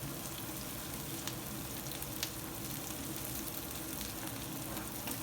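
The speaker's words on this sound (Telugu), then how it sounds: "ఇప్పుడు ఆనియన్స్ వేగిపోయినాయి." Onions and curry leaves sizzle steadily in a pan for a potato masala curry, a dense continuous frying hiss with faint scraping of stirring and no voices.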